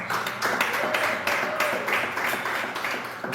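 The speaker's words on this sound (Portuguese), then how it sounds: "Exalta Deus com as palmas" A church congregation clapping hands in praise, a continuous rhythmic patter of many hands, fairly loud and even, with a faint sustained voice running underneath.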